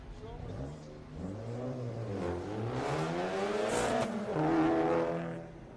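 Number 29 Mazda Miata on an autocross course at Daytona, engine revving up and down through repeated rising and falling pitch sweeps, growing louder as the car works through the course.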